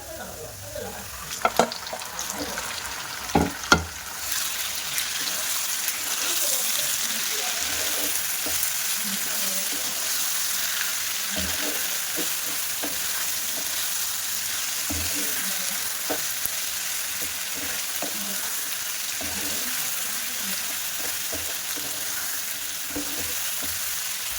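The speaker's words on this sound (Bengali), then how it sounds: "যে চিকেনগুলো আমি ম্যারিনেট করে রেখেছিলাম ওগুলো দিয়ে দেবো" Marinated chicken pieces sizzle steadily in a pan with onions that were already fried reddish, with a few sharp clatters of stirring at the start, then a continuous close, loud frying hiss.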